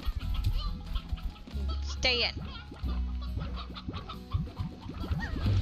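A rooster in the video game Slime Rancher clucks and squawks in short, repeated bursts. A person talks over the calls, and there is a steady low background hum.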